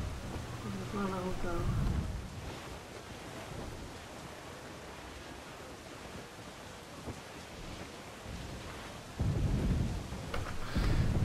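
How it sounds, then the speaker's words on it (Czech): A thunderstorm in Assassin's Creed IV Black Flag at sea: deep rolling thunder and surging wind and surf, with heavier bursts at the start and end. A voice speaks briefly near the beginning. "Ta bouřka, to je strašný."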